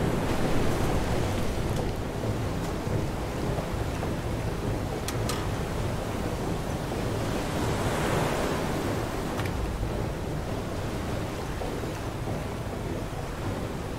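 Ocean waves surge and wash with a steady wind blowing at sea in the survival game FAR: Changing Tides, a continuous broadband roar of surf and gusts without speech.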